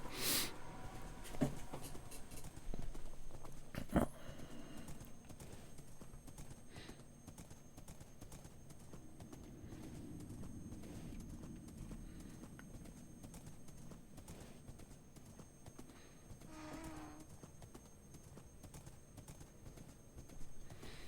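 Faint, steady clip-clop of horse hooves in Minecraft trots along continuously at low volume, with no voices over it.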